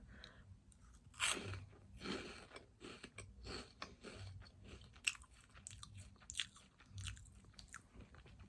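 Close, quiet crunching and chewing of Flamin' Hot Cheetos puffs, bites coming in irregular bursts with soft mouth sounds between, no talking.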